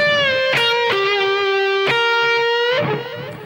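Electric guitar plays the opening phrase of a solo with a sustained, gliding lead line and a few sharp picked accents, loud and distorted, fading at the end.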